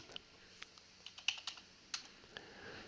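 Quiet, irregular keystrokes on a computer keyboard tap out in short bursts, a dozen or so soft clicks and one or two sharper presses, with no talking.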